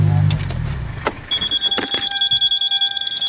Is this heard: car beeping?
yes